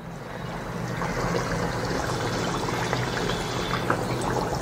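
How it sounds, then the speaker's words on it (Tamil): Adhirasam, a Deepavali sweet, frying in moderately hot oil, giving a continuous dense sizzle and bubbling that stays steady and close throughout, with no talking. "இப்போ இதை பொரிச்சு எடுத்துடலாம்"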